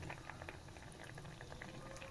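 A pot of raw plantain curry bubbles and simmers softly, a faint continuous gurgle of boiling liquid with small pops scattered through it.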